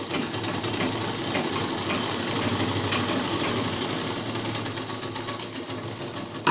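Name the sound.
sewing machine stitching a ladies' trouser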